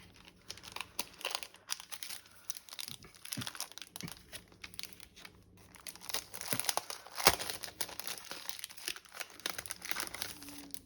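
Paper and cardstock rustling and crinkling while the contents of a butterfly-themed ephemera box are unpacked, a run of soft crumpling handling noises with a few sharper crackles, close and fairly quiet throughout.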